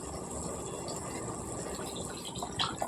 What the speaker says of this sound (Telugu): నీళ్ళు వేసుకోవాలండి.